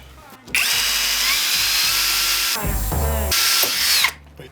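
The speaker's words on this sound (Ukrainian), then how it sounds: "Пробуємо, як сверлить." A Revolt cordless drill-driver with a small bit clamped in its chuck drills close up, giving a loud, sustained motor whine with a change in pitch partway through before it winds down.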